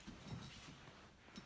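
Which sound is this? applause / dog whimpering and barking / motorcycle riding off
dog whimpering and barking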